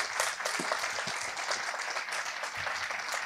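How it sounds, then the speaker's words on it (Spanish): An audience applauds at the close of a science talk on the human brain, a steady wash of clapping from many hands filling the room for a few seconds without a break. "aplaudan."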